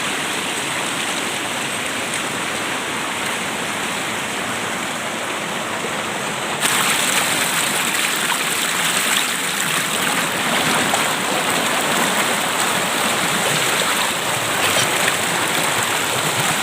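A riverside stream flowing in the countryside, a continuous loud rush of water that grows a little louder partway through, with no talk over it.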